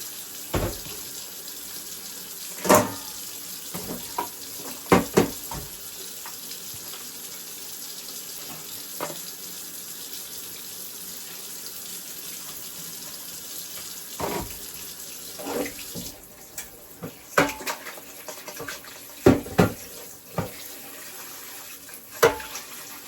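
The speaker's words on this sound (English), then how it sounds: "we're going to wash these with vinegar and water." Tap water runs steadily into a sink as raw chicken feet are washed in vinegar and water, with occasional clatters and splashes breaking through the continuous stream.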